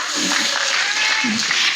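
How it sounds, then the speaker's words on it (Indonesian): An audience at an Islamic religious talk claps steadily and loudly throughout, a dense wash of applause with faint voices mixed in. "Tepuk tangannya mana dong?"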